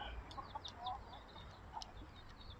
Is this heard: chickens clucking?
yes